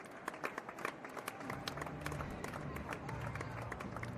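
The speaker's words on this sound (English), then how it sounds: "Now, let me get rid of the crowd noise real quick." Crowd noise from a baseball game broadcast: a murmuring stadium crowd with scattered claps and cheers, faint and steady under the broadcast.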